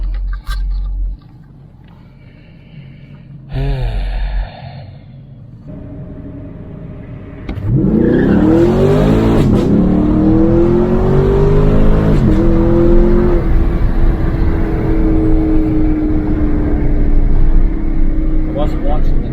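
A 6th generation Chevrolet Camaro accelerating uphill, its engine note rising loudly and close after a quieter start, then holding a strong sustained drone.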